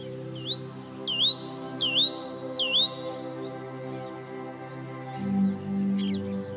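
A white-naped tit, a small black bird with a bright white patch, sings in dry forest near Bangalore: a series of about five clear rising-and-falling whistled notes in quick rhythm, close and bright over a low steady hum.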